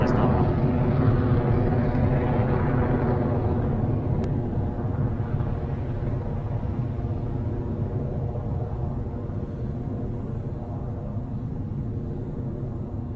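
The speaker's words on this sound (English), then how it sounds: "a beautiful liftoff of Electron from the pad at Launch Complex 1" Rocket Lab Electron rocket lifting off from the pad at Launch Complex 1: a sustained, dense low roar and rumble that holds steady throughout, broad and heavy with a slight easing after the first few seconds.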